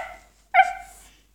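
A single short, high bark from a dog indoors, close and clear, trailing into a brief whine after a faint whimper.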